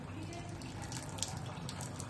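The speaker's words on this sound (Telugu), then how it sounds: "బాయిల్ అయిన దాంట్లో మేము వాటర్ అంతా తీసేస్తున్నాము." Water drains off boiled carrot pieces in a home kitchen, a soft, steady running trickle like a tap over a sink, faint and continuous with a small clink midway and no talk.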